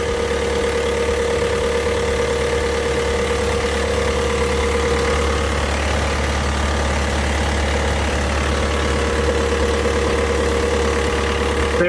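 A marine boat engine idles steadily without letup, a low even rumble with a faint rhythmic throb, close by and constant throughout.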